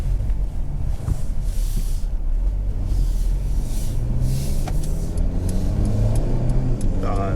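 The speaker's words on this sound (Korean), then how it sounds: "지금 제가 급가속을 하고 싶어서 하는 게 아니라 뒤에 차들이 와가지고" A Mercedes-Benz GLB 250 (X247) carrying four people accelerates hard on a rough road; a steady, loud engine drone and road rumble heard from inside the cabin, pitch rising gradually, no talking.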